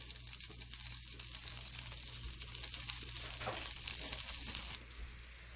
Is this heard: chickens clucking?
no